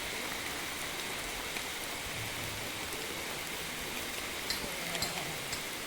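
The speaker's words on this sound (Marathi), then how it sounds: "बघा पाऊस आता बारीक बारीक जोरात चालू झालेलो आहे" Light but steady rain pattering nearby, a continuous soft hiss with occasional sharper drops and no talking.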